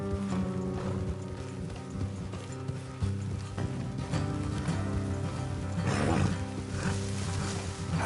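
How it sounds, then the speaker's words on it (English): Rhythmic hoofbeats of horses galloping in a video game, with a rumbling, layered game soundtrack underneath; steady and fairly loud. "Let's leave the horses here and go the rest on foot."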